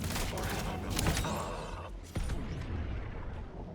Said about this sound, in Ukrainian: І для того, щоб його знищити, нам треба буде стріляти по певних точках.